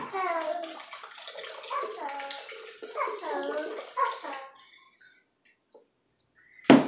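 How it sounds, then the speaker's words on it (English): Water pours from a jug onto pineapple for a Honeydripper frozen cup, giving a close, steady gurgling run for about four seconds before going quiet, then one short knock at the end. "you want to add a little bit of water to this pineapple"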